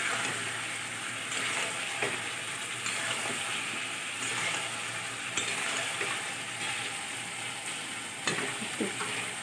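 Spice paste frying and being stirred in a pan for a Bengali vegetable curry, a continuous loud sizzle with soft scraping stirs recurring every second or so, close up and alone.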